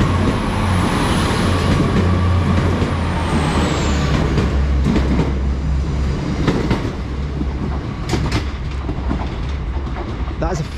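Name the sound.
class 802 five-car train at Exeter St Davids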